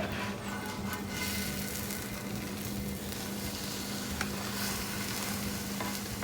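Roti topped with egg fries on a hot pan for a street-style Mumbai chicken frankie, giving a steady, close sizzle and crackle that holds evenly throughout without any talk.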